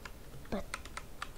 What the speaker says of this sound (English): Really good at typing today